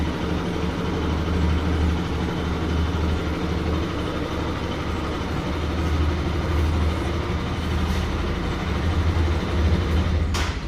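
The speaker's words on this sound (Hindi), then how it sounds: "बाइक अपनी स्टार्ट हो चुकी है।" A GPS-tracker-controlled motorcycle engine idles steadily after a remote start, a continuous low rumble holding throughout at moderate loudness with no talking.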